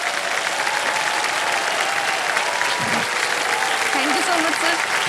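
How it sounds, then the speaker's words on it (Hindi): A studio audience on the Hindi quiz show Kaun Banega Crorepati gives loud, sustained applause. A few brief voices rise faintly above the dense clapping. "तालियां मजदा इनके लिए।"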